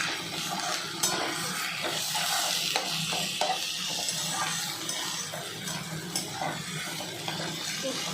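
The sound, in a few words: onions frying in a pan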